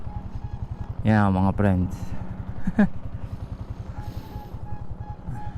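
A Yamaha Sniper 155R motorcycle with a non-stock setup idles steadily nearby in a low, even putter, while someone talks briefly over it.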